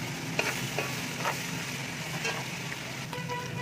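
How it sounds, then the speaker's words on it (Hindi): Whole green chillies go into sizzling masala for chole in a pan, producing a soft, steady fry with a few light scrapes and spatters, close and unaccompanied by speech. "और इसी स्टेज पे मैं थोड़ी सी ये हरी मिर्च डाल दूँगी साबुत"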